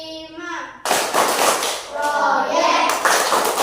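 Children at an Indonesian primary school join in a rhythmic P5 clapping chant, with a burst of loud group clapping and young voices chanting together, close and energetic, after a brief lead-in of a single voice.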